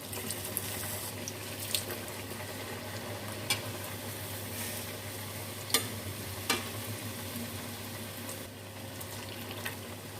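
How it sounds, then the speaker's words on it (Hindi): Samosas fry in hot oil in a kadhai on a stove, a faint, steady bubbling sizzle with a few sharp clicks and pops scattered through it. "ऑयल में हम समोसों को फ्राई कर लेते हैं"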